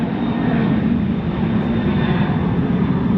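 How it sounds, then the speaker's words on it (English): A low airplane on a flight path near an airport roars loudly overhead at a Pontiac car show gathering in Louisville, Kentucky. The rumble is broad and steady throughout, with no talk. "There's a plane overhead. That's what's making all the noise."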